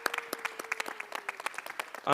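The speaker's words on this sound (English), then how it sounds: "We want to give you all a round of applause as well for joining us." A modest audience at an arts event claps in a sparse, scattered patter of individual hand claps over a faint sustained tone, ending as a louder sound cuts in.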